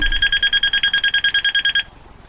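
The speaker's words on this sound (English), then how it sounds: "And it'll actually ring, I think, of 2 or 3 seconds before it'll stop." A military field phone rings through a STU-5 signal terminating unit's automatic ring down circuit, a rapid, loud electronic warble pulsing evenly for about two seconds before stopping abruptly.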